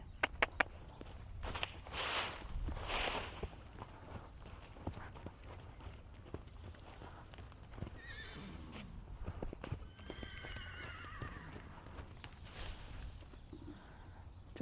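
An Arabian endurance gelding moves about with hoof clip-clops and occasional whinnies, uneven in rhythm and moderately near, with brief rustles and outdoor ambience between the steps.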